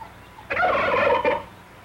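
One loud, rapid, warbling gobble from a large meat turkey lasts under a second against a quiet, slightly hissy background.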